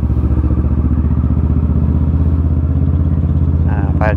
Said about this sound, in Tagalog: Nakakaya kasi nga ingay-ingay ng motor natin.